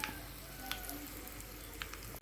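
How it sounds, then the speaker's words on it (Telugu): Hot tempering of oil, curry leaves and spices poured onto peanut chutney, giving a steady, soft sizzle with faint crackles and pops, close and fairly quiet throughout. "ఇలా వేడివేడి పోపు పచ్చడి మీద వేసేయండి"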